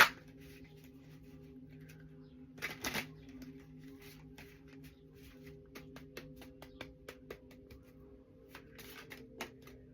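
Tattoo Tarot cards being shuffled, a quiet close riffle in short bursts with pauses between them, no talk.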